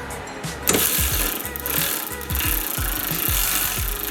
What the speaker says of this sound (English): Now to remove the 17mm castle nut.